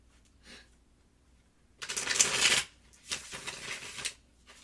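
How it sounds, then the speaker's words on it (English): Tarot cards being shuffled by hand, a faint riffle near the start followed by two louder bursts of card shuffling, close and alone with no talking. "have the tarot cards shuffled. I'm going to shuffle them 5 times, or until a card pops out"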